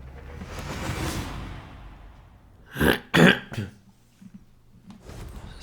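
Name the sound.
coughing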